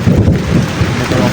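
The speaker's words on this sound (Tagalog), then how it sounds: "lakas ng ulan" Heavy rain pours down loudly and steadily, a dense close roar of drops with low rumbling and wind buffeting on the microphone.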